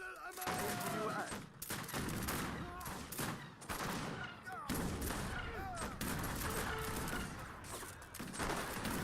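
Artillery and musket volleys in an Age of Empires 3 battle sound as dense, continuous rolling gunfire with repeated cracks and booms throughout, mixed with game voice calls and chatter.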